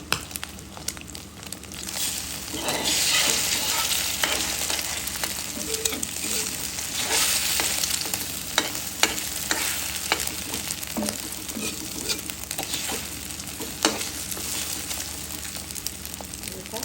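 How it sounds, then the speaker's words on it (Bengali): An egg fries in a little oil for a noodle dish, giving a steady, close sizzle throughout with occasional sharp crackles and light scraping or stirring sounds, and no talking. "ডিমটা ভেজে নিব অল্প তেলে"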